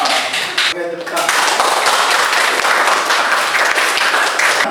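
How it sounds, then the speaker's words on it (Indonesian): Classroom applause from students after a lesson question about the sensitive mimosa plant, a steady, loud patter of many hands clapping for several seconds right after a teacher's brief remark. "tepuk tangan."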